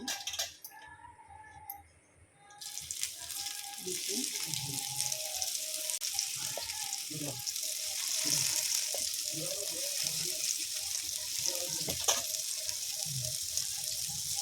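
Soyabean kabab frying in oil in a frying pan, giving a continuous soft sizzle at a moderate level, with intermittent voice-like tones and other kitchen sounds layered over it.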